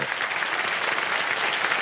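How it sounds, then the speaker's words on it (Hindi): A television game show studio audience applauds steadily, a dense wash of many hands clapping close by with no pauses throughout. "तालियां बज जाए इनके लिए"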